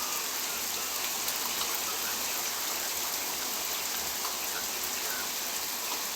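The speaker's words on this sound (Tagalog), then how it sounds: "Lakas na naman ng ulan. Paano tayo nito? Buhos na naman." Heavy rain pours steadily on a farm in the early morning, a dense, even hiss of drops drumming on surfaces that holds constant and loud throughout, with no voices.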